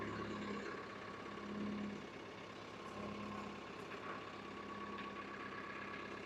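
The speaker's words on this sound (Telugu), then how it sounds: "కొద్దిగా ఇంజన్లో అయితే సౌండ్ వేరే తిరిగి వస్తుంది" A JCB backhoe loader's diesel engine idles with a steady, continuous rumble and a faint hum, close by and unchanging, with no voices over it.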